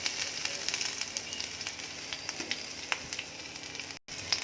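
Mustard seeds, cumin and red chilli sizzle in hot oil, a dense close hiss with sharp pops and crackles scattered through it, briefly cutting out near the end, with no talking.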